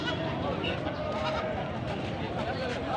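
Goats bleat at a busy livestock market, several overlapping cries above a dense crowd murmur, with someone talking throughout.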